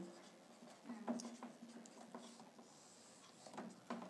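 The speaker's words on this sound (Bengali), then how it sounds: "এখানে লিখবো টু গৌতম কি খরচ করে সেটা লিখতে হবে তোকে।" A pen scratches across paper during an accounting class, soft and close, in short strokes and taps with small pauses between them.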